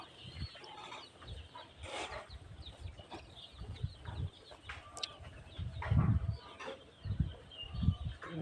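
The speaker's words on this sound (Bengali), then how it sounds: "এখন মুরগির খামারটা আজকে দেখাবো।" Layer hens on a newly built poultry farm cluck and call in repeated low bursts, with brief higher squawks and chatter spread through the flock at moderate distance, alone and without talk.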